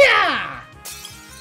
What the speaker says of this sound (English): Glass shattering goodness.